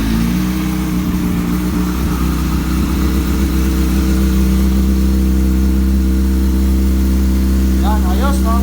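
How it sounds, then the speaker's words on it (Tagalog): A 2005 Yamaha R6 motorcycle engine running after an oil and filter change, a loud steady idle hum held close to the bike throughout, with a brief rise near the start and faint talk or whistling near the end. "ngayon papaandarin ko yung motor"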